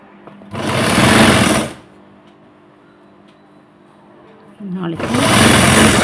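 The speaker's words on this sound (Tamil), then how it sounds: "கொஞ்சம் கொஞ்சமாக தைங்க." Sewing machine stitching four layers of blouse fabric together, heard as two close, loud bursts of rapid mechanical whirring separated by a pause of a few seconds, with faint handling noise in the gap.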